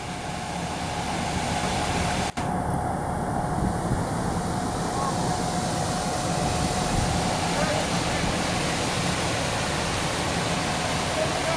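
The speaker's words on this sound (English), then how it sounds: "Water's on the fire." A fire hose sprays water onto a burning structure, a loud, steady broadband hiss and rush that persists throughout, with a brief interruption early on.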